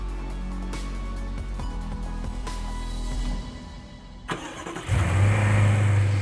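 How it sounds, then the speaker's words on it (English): BMW X6 xDrive 50i petrol engine, 450 horsepower, steady running at first, then a sharp start-up burst near the end that settles into a loud, deep idle close by. "You are listening to the pinnacle of the all-new BMW X6's petrol engine range, the xDrive 50i."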